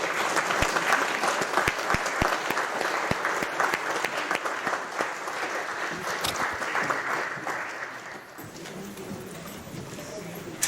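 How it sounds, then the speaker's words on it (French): Congregation applauding a newly baptized person during a Catholic mass in Quebec, steady clapping from a crowd filling the church for about eight seconds before it fades and a voice speaks. "On peut applaudir, on a un nouveau baptisé."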